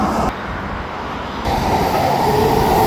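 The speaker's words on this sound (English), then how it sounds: "the Skytrain passed by" SkyTrain passing along the BC Parkway, a loud, steady rumble of rail cars that swells midway as the train draws close, with no voices.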